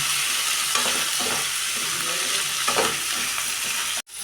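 Pumpkin pieces frying with turmeric powder in a pan, a steady loud sizzle with occasional stirring scrapes throughout, then a brief cut near the end.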